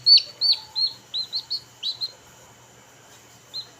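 A newly hatched chick gives a run of bright, high chirps, about eight close peeps in quick succession, then a pause and one final chirp, over a quiet indoor background.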